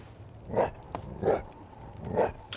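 A monster dog in the Witching Tower VR video game growls in three deep, rough bursts, each about a second apart, close and prominent over a quiet background.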